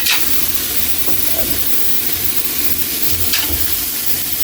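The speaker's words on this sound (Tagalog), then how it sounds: "Lagyan na natin yung pork na walang mantika." Pork hits a hot dry pan with no oil and sizzles loudly and continuously, a close broad hiss with occasional spatters and stirring knocks and no talking.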